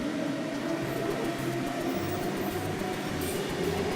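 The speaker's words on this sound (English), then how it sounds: "train." A mountain train rumbles past nearby with a steady low mechanical drone and faint rattling, continuous throughout, no voices.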